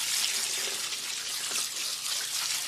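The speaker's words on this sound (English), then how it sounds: "So I put the beans in a colander to drain, and I'm just rinsing with cold water." Cold tap water runs steadily over beans in a colander, a continuous bright hiss and splash that stays loud and close the whole time.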